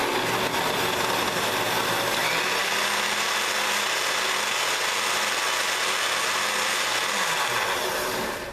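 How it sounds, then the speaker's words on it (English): A blender runs loud and steady for about eight seconds, whirring through a salad dressing for a grilled chicken salad, its motor pitch shifting slightly near the end before winding down. "lid on the blender and let's blend it"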